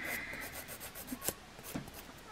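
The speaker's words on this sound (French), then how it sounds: "je viens prendre une petite lime et en fait, moi, je viens limer légèrement les bords" Soft, close rasping of a small nail file drawn lightly along the edges of fingernails, quiet rubbing strokes with a few sharper ticks.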